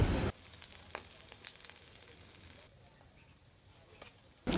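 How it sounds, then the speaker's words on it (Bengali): Pieces of tripe (beef offal) fry in bubbling oil in a pan on a rooftop stove, giving a soft, steady sizzle with scattered small pops throughout. "একদম তেল ফুটে উঠছে"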